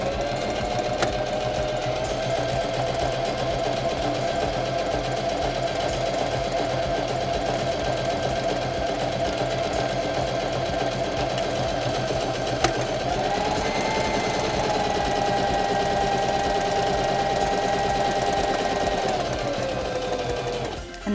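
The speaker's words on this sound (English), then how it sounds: "now we can step on the foot control and sew a buttonhole" A Singer Heavy Duty 6635 sewing machine stitches a buttonhole in one steady, loud mechanical run of rapid needle strokes with a constant motor drone, shifting slightly in pitch near the end before stopping.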